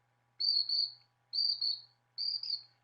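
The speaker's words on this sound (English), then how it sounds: "the sound of the grasshopper, I use that in my class with my teenagers" A recorded grasshopper chirping, played back to a class: three evenly spaced, shrill buzzing trills, each slightly pulsed, with short silences between them.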